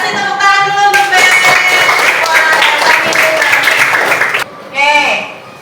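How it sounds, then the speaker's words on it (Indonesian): Students in a primary school science lesson clap together in a loud, rapid burst lasting a few seconds, while a teacher's voice speaks over the start and after it stops. "Kasih tepuk tangan dulu untuk Ben."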